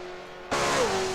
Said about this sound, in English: The acceleration of this car is something different.